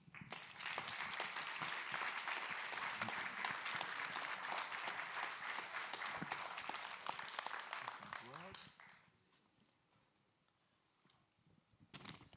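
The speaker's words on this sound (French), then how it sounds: "je vous demande d'applaudir chaleureusement Véronique Drouin" Warm applause from an audience welcoming a guest, a winemaker with Burgundy and Oregon ties, to an evening interview event. The clapping is dense and sustained, then fades, and a voice speaks briefly near the end.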